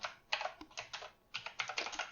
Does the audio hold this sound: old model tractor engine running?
no